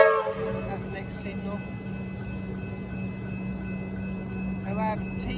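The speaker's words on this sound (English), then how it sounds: "The train goes past." Comeng electric suburban train, set 357M-1029T-358M, passing by: a steady low rumble and hum of the carriages runs throughout at moderate distance, with short tonal squeals or horn-like bursts near the start and end.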